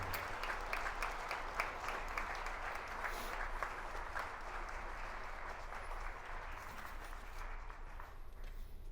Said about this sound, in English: Let's have a big round of applause for the work of this outstanding nonprofit